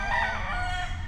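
Chickens at a poultry farm: a rooster crows loudly and nearby with a drawn-out cock-a-doodle-doo, with clucking fowl and steady outdoor background noise.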